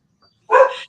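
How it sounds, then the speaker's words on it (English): One sharp dog bark sounds loud and close after half a second of silence, ending with a brief trailing tail. "She heard your dogs barking"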